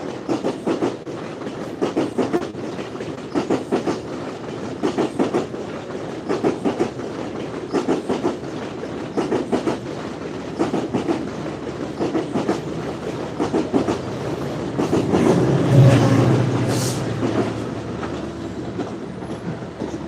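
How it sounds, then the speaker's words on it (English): A GO commuter train passes close by in Toronto, wheels clacking over the track joints in a steady rhythm, with a swell and brief squeal near the end. "And that one looks like GO train as well."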